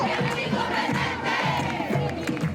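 Large protest crowd in Puerto Rico taunting Governor Rosselló, loud massed voices chanting in a dense, rhythmic roar that pulses steadily throughout.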